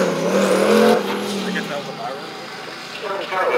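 Engine noise from a Mazda Miata fitted with a 6-liter LS2 V8, a short burst of throaty car sound that eases off and builds again, heard beneath people talking.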